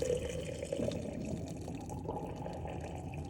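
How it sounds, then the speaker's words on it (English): Water runs into the fresh water tank of an Embassy Dolphin Class B RV, a steady, muffled gurgling fill sound that stays close and even. "you'll learn to hear the difference in the sounds as the tank is filling"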